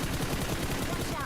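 Rapid bursts of gunfire from a shooting video game, quiet and continuous through the short stretch, a rattling run of overlapping shots with no clear gaps.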